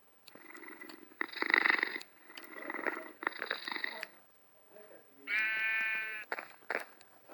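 A video game cat purrs and meows in several short bursts separated by pauses, including one drawn-out tonal cry near the end, all close and clear.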